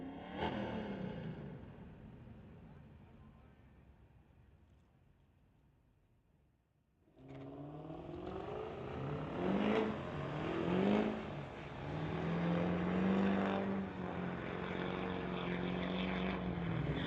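At a street-legal drag race, a Lexus and a Chevy truck launch side by side, their engines roaring and climbing through gears. A fading tail gives way to a brief quiet, then loud rising revs and shifts as they pull away.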